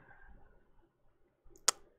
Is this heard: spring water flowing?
no